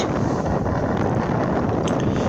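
Strong seaside wind at Hel roars into the microphone as a dense, constant buffeting rush for the whole short stretch.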